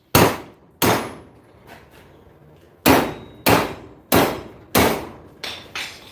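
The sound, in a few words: hammer striking metal in a vise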